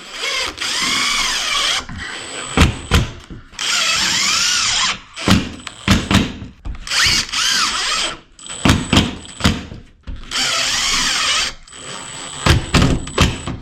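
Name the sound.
power drill screwing J-track to ceiling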